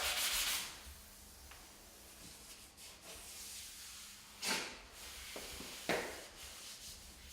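A bare hand rubbing along a freshly sanded interior wall, feeling for rough spots before the final paint coat; soft, close brushing friction comes in a few short strokes, with quiet gaps between them.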